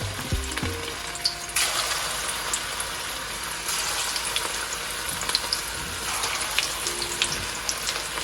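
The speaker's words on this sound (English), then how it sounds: "You see if the oil is hot. It is hot. So now I'm going to put in the meatball." Meatballs drop into hot oil with a few soft clunks, and a dense, bright frying sizzle rises and holds steady, with scattered pops and small bursts throughout. No one speaks.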